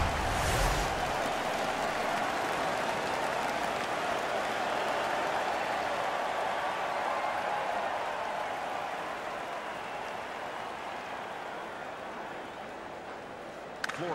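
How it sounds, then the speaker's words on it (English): Crowd cheering at a hockey arena in the NHL 15 video game, a dense, steady roar that holds level for several seconds, then slowly fades toward the end. "The crowd is so pumped right now."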